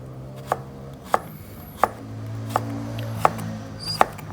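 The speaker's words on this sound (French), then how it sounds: "On peut utiliser aussi les carottes en le coupant en deux pour faire des légumes pour les chauves-souris et le couper très très mince mais en diagonale" A knife chops through a carrot on a cutting board, slicing it very thin on the diagonal: six crisp, evenly spaced knocks about two-thirds of a second apart, close and distinct over a quiet room.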